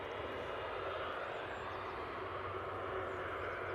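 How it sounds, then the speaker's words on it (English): An EasyJet Airbus A320neo jet departs Manchester Airport, a faint, steady, distant broadband engine roar that holds evenly throughout, with no talk. "EasyJet A320 Neo is our next departure to Tenerife."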